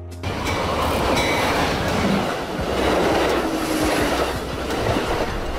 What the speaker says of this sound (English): This type of train has two levels for passengers, increasing passenger capacity without extending the length of the train.